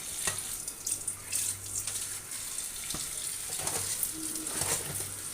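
Chui leaf greens being washed in a basin of water: continuous splashing and trickling with light sloshing and occasional sharp knocks, close up and fairly quiet, with no talking.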